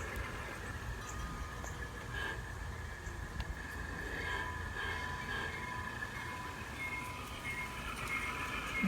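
A G scale model train rumbles steadily along its track, a continuous mechanical clatter and hum with faint squeals, holding at an even level throughout.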